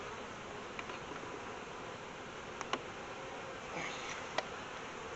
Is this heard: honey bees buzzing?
yes